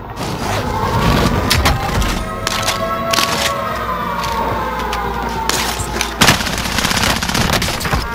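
Call of Duty Warzone gunfire on Rebirth Island: rapid bursts of automatic shots crack out loudly over a dense, noisy battle bed with a wavering siren-like tone, the fire continuing through most of the stretch.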